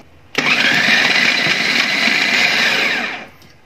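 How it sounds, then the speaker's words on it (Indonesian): A blender grinding meat with a single egg, a loud close motor roar that starts abruptly, holds steady for about three seconds, then winds down and stops; no talking. "berulang kali memblender dagingnya"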